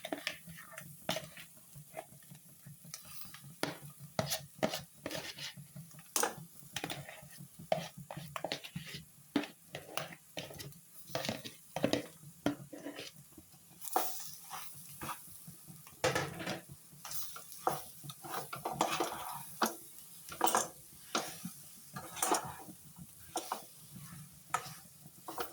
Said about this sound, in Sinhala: දාලා කලවම් කරගන්න තමයි තියෙන්නේ.